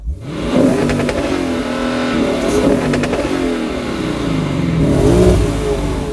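A 2016 Lexus GS F's naturally aspirated engine revs up loud and close, a sustained throaty roar with rising and falling pitch over about six seconds.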